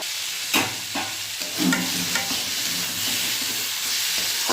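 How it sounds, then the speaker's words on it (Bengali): Pumpkin and ridge gourd frying in a pan, a steady close sizzle with occasional bursts of stirring and scraping, no voices. "তারপরে একটু ভাজা ভাজা করে ভালো করে তারপর নামাবো"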